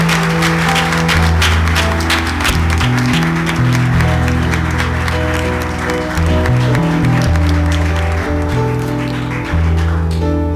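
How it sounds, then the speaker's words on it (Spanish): A church congregation applauds loudly and steadily throughout, the clapping mixed under sustained organ or keyboard chords that play continuously. "Denle un aplauso fuerte al Señor"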